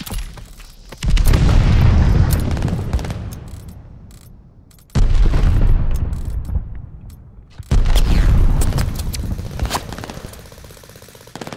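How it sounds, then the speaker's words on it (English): Gas grenades going off in Call of Duty Vanguard, three heavy booming bursts a few seconds apart, each rising sharply and then slowly fading into a long rolling tail. "Throwing gas grenade."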